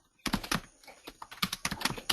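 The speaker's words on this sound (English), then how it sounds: "I hear somebody rattling on their keyboard." Someone types rapidly on a computer keyboard during an online call, producing a quick, close burst of uneven clicking keystrokes after a brief silence.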